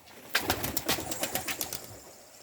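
A group of pigeons taking off and flying, a rapid series of soft wing claps and flutters nearby, fading slightly at the end.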